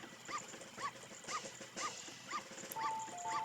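Rhythmic barking from a dog in the video game The Legend of Zelda: Majora's Mask 3D, about six evenly spaced yips over a steady game soundtrack, with a sustained tone near the end.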